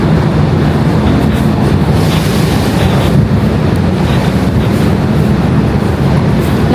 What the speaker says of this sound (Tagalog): Lakas ng hangin, ano?